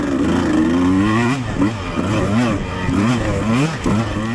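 A dirt bike engine on a soft-soil cross-country race course, loud and close, revving up and down in quick repeated surges as the rider works the throttle, with wind noise mixed in.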